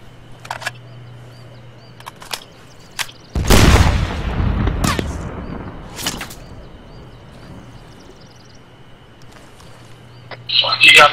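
Frag grenade detonating in the Arma III video game: one loud broadband blast rolling off over about a second, set among quieter game sounds, with players talking over voice chat around it.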